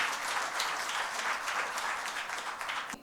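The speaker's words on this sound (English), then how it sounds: "a big round of applause" A crowd claps steadily in sustained applause that fills the room, holding at an even level before tapering slightly.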